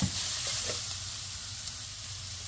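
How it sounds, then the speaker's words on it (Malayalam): Okra sautéing with salt in a pan in a traditional Kerala home kitchen, a steady close sizzle with a couple of soft stirring knocks near the start, with no one speaking. "ഇപ്പോൾ വെണ്ടയ്ക്ക ഇട്ടിട്ട് ഒന്നൊന്ന് വഴന്നോട്ടെ കേട്ടോ."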